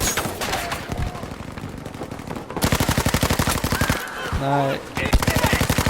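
Rapid automatic gunfire from a World War II Pacific battle in Battlefield V, loud and continuous bursts with overlapping shots, while someone speaks briefly over the firing.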